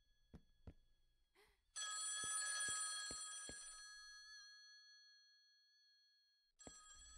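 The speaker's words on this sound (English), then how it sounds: "I should answer the phone before going upstairs." A telephone bell rings in the video game Selene's Unbearable Night, a bright electronic ring that sustains and slowly fades, then starts again, with a few soft clicks and footsteps before it.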